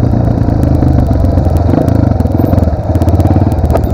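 A Pro Tork TR100F mini motorcycle climbs a hill with a loud, close, rapid-firing single-cylinder engine note that stays steady under throttle, with rattling and clatter throughout.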